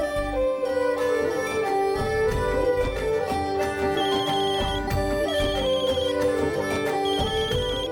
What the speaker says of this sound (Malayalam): പൂജാരിയാണ് ഫോണിൽ വിളിക്കുന്നത്.